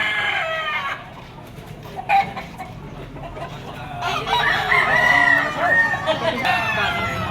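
A bull stag gamecock of Sweater Gilmore bloodline crows at a rooster market in Padre Garcia, Batangas, with other roosters clucking and crowing around it, a busy crowd murmuring behind, and a loud burst of crowing in the second half.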